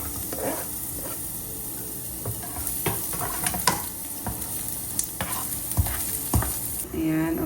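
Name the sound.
garlic frying in hot cooking oil in a pan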